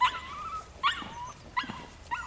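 A dog making short whimpering yips and whiny barks, about four separate high-pitched cries spaced across the moment, fairly close and moderately quiet over a faint background.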